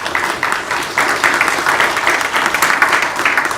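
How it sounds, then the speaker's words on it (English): An audience claps for a speaker at a talk on church maintenance, a fairly close, steady round of applause that carries on without letup. "So please join me in giving Evan a warm round of applause."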